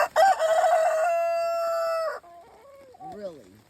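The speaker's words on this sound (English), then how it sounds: "You out here crowing and cackling this early in the damn morning" A rooster out in the rain gives one loud, near crow that holds a long, sustained final note, then follows it with a few softer, wavering clucks.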